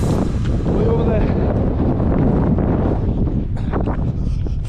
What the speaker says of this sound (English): Had a consistent headwind since Porthcawl, really.